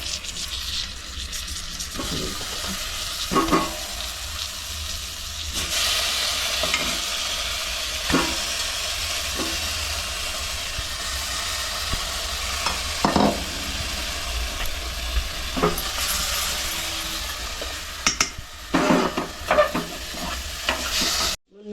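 Stuffed brinjals frying in an oil tempering for a Malvani-style bharit: a continuous close sizzle runs with repeated stirring and scraping knocks from the pan, and no voices.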